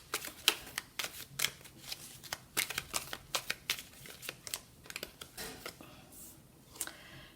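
A deck of tarot cards is shuffled for a reading in a steady series of quick, crisp riffles and soft slaps, fairly close and quiet, with no talk.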